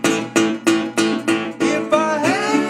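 Three-plus quick strums on an open chord of an acoustic guitar in delta blues style ring out in an even, steady rhythm, with a sliding bend at the end, close and clear with no talking.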